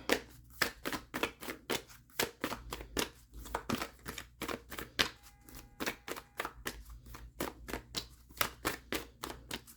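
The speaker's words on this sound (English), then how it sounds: "We're going to pull some cards here." Tarot cards are shuffled and pulled in quick, crisp riffling bursts, close and fairly loud, in an uneven run of snaps and flutters with no talk.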